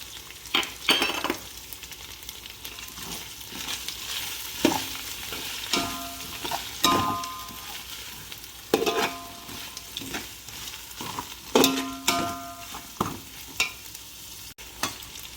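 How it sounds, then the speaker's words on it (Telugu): Whole cloves, cardamom, cinnamon, star anise and marathi moggu fry in oil with mint leaves for chicken biryani, a steady sizzle broken by repeated spatula scrapes and clinks against the pan. "లవంగాలు, యాలకులు, దాల్చిన చెక్క, నచ్చి పువ్వు, మరాఠీ మొగ్గ అన్నీ కలిపి ఫ్రై అయిపోతున్నాయి"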